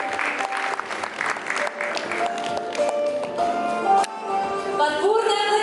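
Applause from an audience at a lyceum anniversary celebration, a dense steady clapping from a full hall with brief tonal music or voices faintly underneath.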